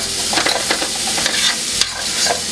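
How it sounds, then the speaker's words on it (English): Onions sizzle steadily in a frying pan over medium heat while a utensil stirs and scrapes through them, close and loud with no talking. "So we're going to cook these onions up."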